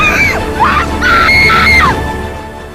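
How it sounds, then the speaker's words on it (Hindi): People scream and wail during a village brawl with sticks (lathis) over a land dispute in an open field in Nawada, with loud rising and falling cries overlapping one after another. "चारों ओर चीख पुकार मची हुई है।"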